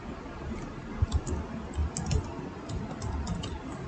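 Faint, light clicks of a computer keyboard as a password is typed, scattered irregular keystrokes sitting under a steady hiss of background noise with no one speaking.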